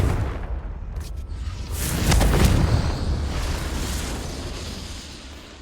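Explosions from the Bombarda and Confringo spells in the video game Hogwarts Legacy: a loud blast with a whoosh swells in the middle, then a rumbling tail fades slowly.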